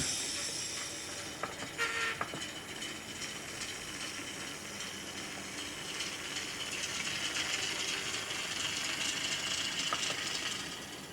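A Hornby Class 08 shunter model locomotive in TT:120 scale, fitted with a DCC sound chip, plays a faint, steady diesel rumble with a few brief tonal blips and clicks, heard alone.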